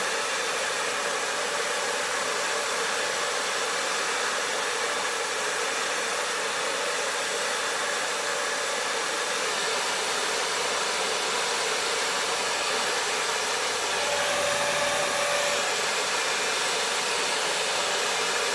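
A hair blow dryer runs continuously at close range, a loud steady whooshing hiss that barely changes throughout.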